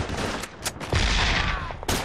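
Machine gun fire rattles through a Call of Duty: Big Red One battle scene: a dense fusillade of overlapping shots and bursts fills about two seconds, loud and close, with no one talking.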